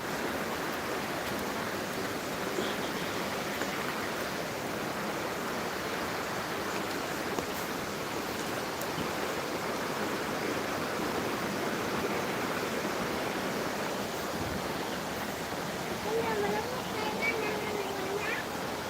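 Steady broadband rush of flowing water at a resort in Thirunelli fills the whole clip, continuous and fairly close, with faint voices and a few brief birdlike chirps near the end.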